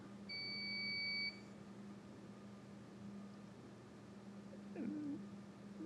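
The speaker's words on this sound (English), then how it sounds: "I'll wait for the beep to stop" A steady electronic beep sounds in a town council meeting room, one sustained high tone lasting about a second against quiet room hum and faint background noise.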